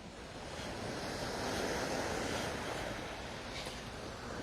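Ocean waves roll in on Waikiki Beach in Hawaii at sunrise: a steady, full surf wash with some wind rumble, continuous and close, with no talking.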